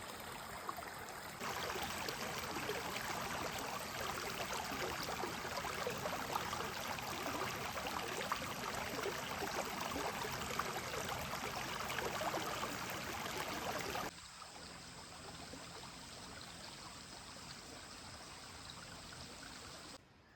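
A village river in the Konkan region near Dapoli flows with a faint, even rushing wash that stays steady throughout and drops slightly in level near the end.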